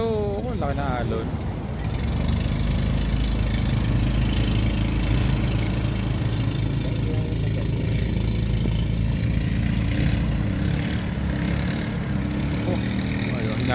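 A fishing boat's engine, built without a reverse gear, runs out at sea on rough water with big waves, giving a loud, steady droning rumble throughout while voices talk faintly underneath.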